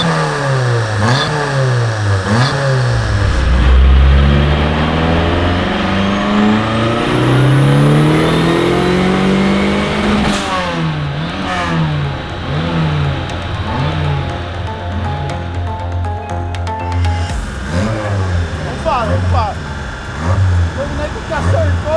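A Chevrolet Corsa fitted with a forged 2.4-litre turbo engine revs and accelerates hard, its loud engine note climbing through gears with rising pitch sweeps, close and continuous, while people talk over it.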